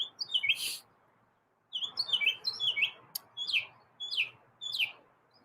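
A pet bird in Puerto Rico chirps in quick, high repeated phrases, a short burst, a pause, then several more bright chirp groups close by and clear.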